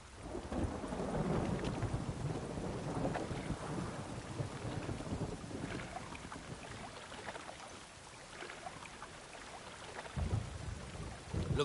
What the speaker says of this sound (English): Raining buckets.